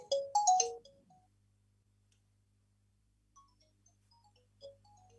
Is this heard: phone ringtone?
yes